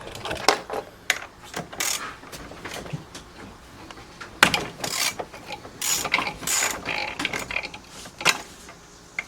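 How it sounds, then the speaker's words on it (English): A ratchet working a 13 mm socket on the rusted nut at the bottom of an E36 steering shaft joint, giving close, repeated bursts of clicking pawl strokes in an uneven rhythm with short pauses and no talk. "I'm going to take my 13 and try to get it on the bottom side of that"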